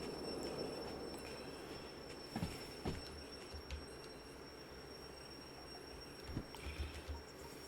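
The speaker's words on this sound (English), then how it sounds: "Train's rolling away, train's rolling away, it's a rolling away from me." In the Derail Valley video game, a freight train loaded with heavy steel rolls steadily with a low rumble, joined by wheel squeals and several sharp clanks and thumps, with no talk.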